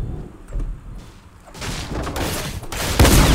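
Rapid gunfire from a video game custom match, a loose volley of shots and thuds that thickens and grows louder toward the end, with dense game noise throughout.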